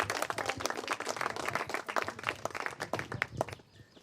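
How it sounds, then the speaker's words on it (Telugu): At a school meeting, an audience of teachers and colleagues claps for the English master as he comes up to speak, a lively burst of many hands that fades out at the very end. "క్లాప్స్"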